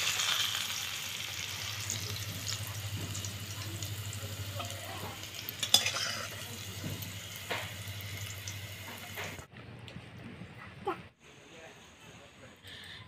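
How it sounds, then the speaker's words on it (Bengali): Potatoes and beans fry in oil in a pan with a steady sizzling hiss and occasional stirring clatter for several seconds, then the sound cuts away to near quiet. "আলু আর সিম ভালো করে ভেজে নিয়েছি"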